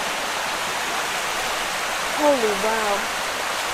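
A swollen creek rushes in a steady, loud roar near Sulfur Springs Waterfall amid ice and snow, while a voice exclaims briefly over the flow.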